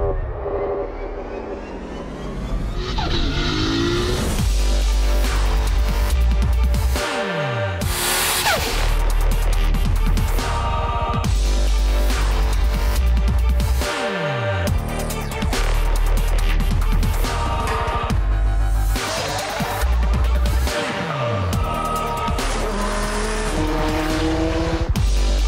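A Porsche 997.1 C2 with intake modifications runs hard on a dyno, its engine roaring loud and close through repeated rising revs, each sweep climbing to a peak before dropping off, then building again.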